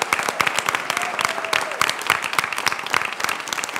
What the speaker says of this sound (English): Give Daniel a round of applause